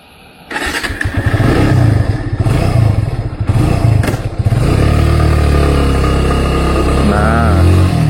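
A motorcycle engine starts with a clatter, revs briefly, then settles into a steady, loud idle close by; the motorcycle loses power suddenly, runs very hot and uses excessive fuel.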